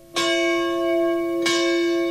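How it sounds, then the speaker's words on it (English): A campus bell rung in memory of shooting victims: two clear, resonant strikes about a second and a half apart, each leaving a long sustained ring. "Ringing the campus bell for each of the shooting victims"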